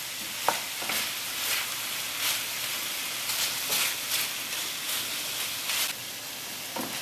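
Browned onions and lamb curry sizzle steadily in a pan, a continuous close hiss and crackle with occasional stirring scrapes, no voices.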